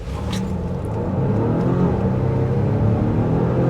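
A 2024 Volvo XC90 T8 Recharge plug-in hybrid SUV accelerating hard from a stop, a steady loud engine and road rumble heard from inside the cabin, building continuously with no talking.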